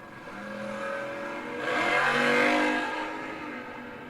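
Drag racing cars, including an 1986 Chevrolet Camaro, accelerating down the strip, a faint distant engine roar that swells to a peak mid-clip and then fades, without talk.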